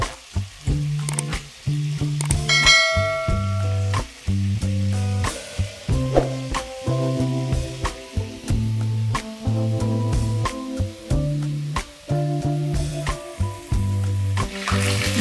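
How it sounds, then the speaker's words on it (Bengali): Four pieces of chicken breast fry in hot oil, crackling and sizzling loudly and close up in a steady stream, broken by repeated stirring scrapes and brief pauses, with no talking. "তেলটা কিছুটা গরম হয়ে এসেছে এখন আমি চিকেনগুলোকে একটু ফ্রাই করে নিই"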